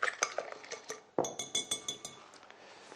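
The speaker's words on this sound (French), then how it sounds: "on mélange notre préparation" Omelette mixture being stirred in a bowl, with a utensil clinking repeatedly against the sides in quick, irregular taps that are close and fairly loud and then fade out near the end.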